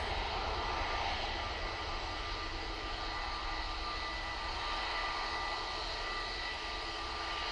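An aircraft departing Manchester Airport for Shanghai gives a steady, distant engine roar that holds at an even, fairly faint level with no voices.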